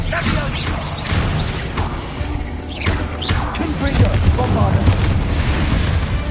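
The Expelliarmus spell goes off in the Hogwarts Legacy video game as a loud booming burst with whooshing swells over a dense, continuous rumbling game soundscape.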